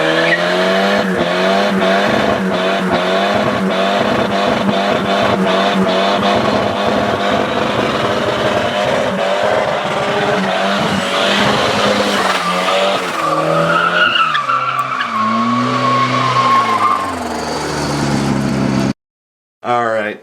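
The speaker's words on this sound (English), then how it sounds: "I'm gonna do a quick burnout for Junk Miata and Teen Ricer." Big-turbo Volvo car doing a burnout, its engine roaring loudly while tires squeal and skid continuously, ending with the revs falling away and a brief cutoff.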